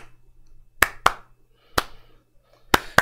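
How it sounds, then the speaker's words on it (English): Five separate hand claps, sharp and fairly close, spaced unevenly over a quiet background with a faint low hum. "Maybe we need some hand claps."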